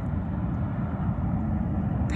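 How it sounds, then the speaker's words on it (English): Steady highway traffic with trucks rumbles on at a distance beside a desert wash in southern Arizona near Organ Pipe National Monument, as a constant low roar without any talk. "Noise you're hearing is the highway."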